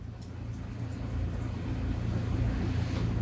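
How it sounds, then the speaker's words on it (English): A car driving along between errands, heard from inside the cabin as a steady, close low rumble of engine and road noise that swells slightly and holds, with no talking. "I'm in my car because I'm running errands between here and there."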